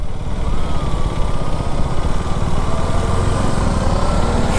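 A Suzuki Hayabusa superbike passes with a loud, continuous engine roar that holds steady throughout, its pitch shifting slightly as it goes by.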